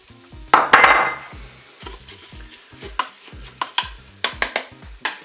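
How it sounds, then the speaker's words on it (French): Rice is poured and stirred into a Cookeo pot over browned vegetables, making a series of close scraping and clinking strikes on the pot with faint sizzling between them. One louder rattle comes early and softer, irregular knocks follow, with no talking. "Maintenant, je vais ajouter mon riz."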